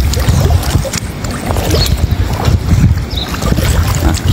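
Strong wind buffets the microphone at the shore of a flooded lagoon, the Lagoa dos Patos at Arambaré, a low, rumbling roar that rises and falls continuously for a few seconds with no voices.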